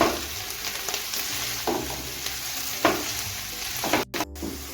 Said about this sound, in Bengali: আমি আরও দুয়ের থেকে তিন মিনিট ভেজে নেবো